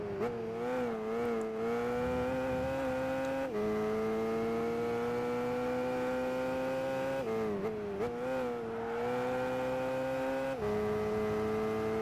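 A race car engine in Gran Turismo 5, fitted with titanium dual racing exhausts, holds a loud sustained drone, dipping briefly at gear changes then climbing again, continuous with no talking.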